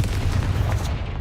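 Confringo blast curse from Hogwarts Legacy: a loud, dense low rumbling boom with crackling burst texture, sustained through the moment and fading slightly at the end, with no talk over it.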